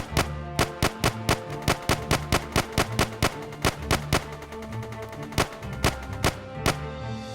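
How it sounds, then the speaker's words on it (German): A skeleton fires an MG5 machine gun in a pirate video game, with sharp evenly spaced shots about every quarter to half second, loud and close over a steady music bed. "Das Skelett mit seinem MG5, Alter, unglaublich."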